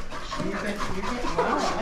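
A dog pants steadily and whimpers softly at close range for a couple of seconds, with people's voices mixed in at a moderate level.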